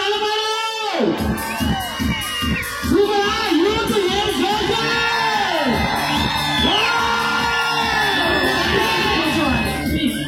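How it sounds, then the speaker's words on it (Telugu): A crowd at a celebrity stage event cheers, whoops and shouts in a loud, sustained burst after a short pause, with applause mixed into the continuous noise. "అందరూ గట్టిగా చప్పట్లు కొట్టాలి"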